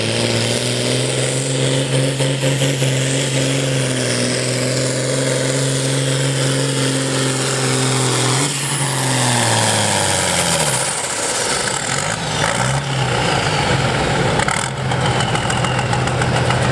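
A John Deere 6030 tractor at an open tractor pull at the Missouri State Fair, with a loud, close engine droning steadily and then roaring up and shifting in pitch partway through as the run builds.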